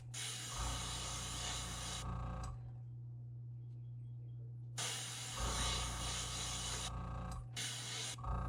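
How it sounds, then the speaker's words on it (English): An airbrush sprays paint at too high a pressure onto a Strike King KVD crankbait lure. It gives loud, close hissing bursts separated by quiet pauses, with a low steady hum underneath. "spraying at too high of a pressure"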